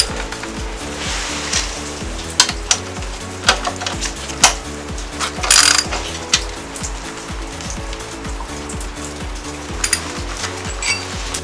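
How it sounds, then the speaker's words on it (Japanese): A ratchet wrench backing out a bolt on a Yamaha XSR125 motorcycle during lowering work, close, rapid dry clicking in fast bursts with occasional sharper snaps. "はい、もう一つのボルトも外します。"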